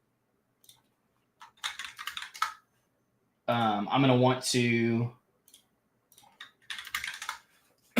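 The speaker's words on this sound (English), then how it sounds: "sorry, just typing a few things." Rapid clicks of typing on a computer keyboard come in short bursts close up, broken in the middle by someone talking over them.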